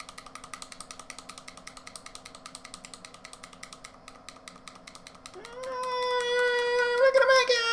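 A drilling machine in the Sigma Star Saga video game gives a fast, steady mechanical rattle of repeated pulses, then gives way to rising electronic game tones near the end.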